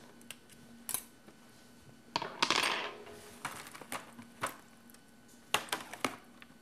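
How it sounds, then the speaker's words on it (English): Metal roasting rack lifted out of a pan of roasted pork and autumn vegetables, giving several sharp clinks and scrapes spaced over a few seconds, close and fairly quiet. "Take this rack right out."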